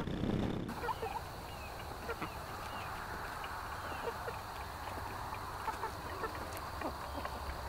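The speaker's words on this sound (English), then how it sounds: "The chickens are still enjoying their time out here in the back 40, clearing the field for me" Chickens free-ranging in an open back field give soft, scattered clucks and murmurs, faint and distant over a steady outdoor background with no talking.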